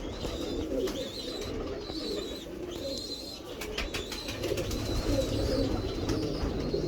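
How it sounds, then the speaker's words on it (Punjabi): Pigeons coo repeatedly in a loft, soft rolling calls overlapping one another at close range, with a low rustling murmur of the flock and occasional clicks underneath. "ਆ ਦੇਖੋ ਕਬੂਤਰ ਦੇਖੋ ਮਾਸ਼ਾਅੱਲਾ"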